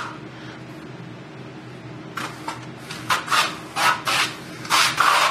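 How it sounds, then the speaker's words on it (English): A trowel works US CottonWall textured wall coating onto a wall, soft at first and then a series of close, raspy sweeping strokes in an uneven rhythm, growing louder toward the end. "he'll just take a little bit of material and put it in there. Trowel it back in."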